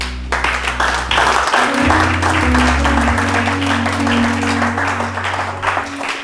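A church congregation applauds to acclaim the Lord, with loud, dense clapping that lasts about six seconds over a low, steady background of sustained tones.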